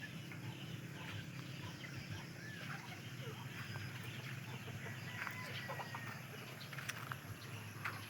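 Faint chicken clucks and short fowl calls scattered over a steady background hiss, quiet and distant.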